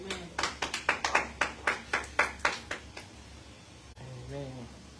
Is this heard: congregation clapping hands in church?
yes